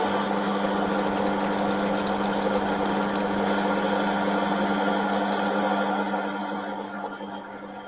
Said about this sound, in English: And I'll chamfer the edge.